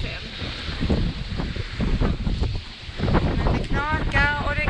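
Strong gusting wind of about 24 to 30 knots buffets a sailboat lying at anchor off Camariñas, a steady broadband roar with surging gusts, while water noise and brief voices come through near the end.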